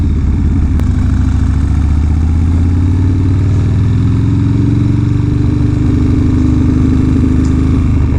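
A 1980s Harley-Davidson FXR motorcycle engine runs steadily and loud up close, a deep throbbing idle with a slight rise in revs partway through and no voices.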